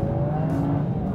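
A Toyota GR Yaris engine rumbles and blips under the throttle, a steady loud mechanical tone with slight rising and falling pitch and no voices.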